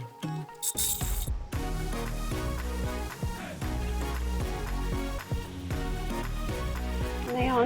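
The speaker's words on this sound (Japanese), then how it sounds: "先ほど印つけたところから持ち手を縫い付けていきます。" A sewing machine stitches handles onto a lined tote bag, giving a close, steady run of rapid mechanical needle clatter. It follows a brief rustle and thump at the start and continues with small pauses.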